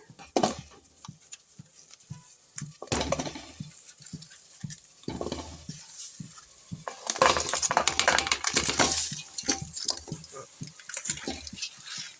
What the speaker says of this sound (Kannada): ಈಗ ಬೆಲ್ಲ ಹಾಕ್ತಾಯಿದ್ದೀನಿ